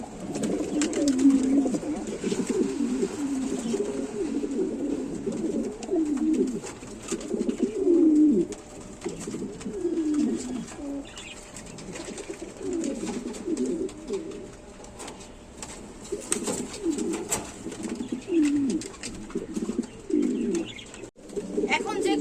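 Lahori pigeons coo in repeated low, rolling calls close by, one bird after another, with some chirps and a person speaking at times in between.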